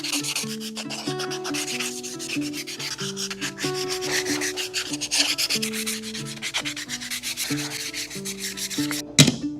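Steady rhythmic rubbing of 220-grit sandpaper on wood, close up, with continuous scratchy strokes under a sustained musical tone, ending in a brief sharp knock.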